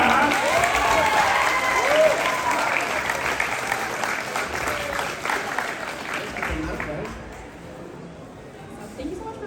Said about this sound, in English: let's have a round of applause for Minnesota.